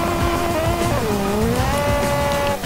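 A front-wheel-drive car in the BeamNG Drive video game screams through a high-speed drag pass near 180 mph as its engine fails. The engine revs loud and continuous, with the pitch sweeping down and back up alongside tire squeal.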